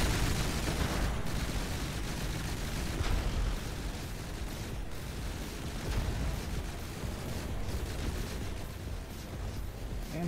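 Heavy HP missile fire in a video game battle, a dense, continuous roar of blasts and rumbling explosions filling the whole stretch, loud and unbroken, with no voices.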